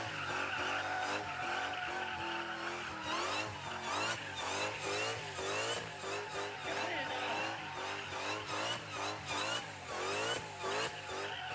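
A Nissan 350Z fitted with a Hellcat engine drifts in second gear, its tires squealing and skidding without a break over a loud, steady engine roar close by.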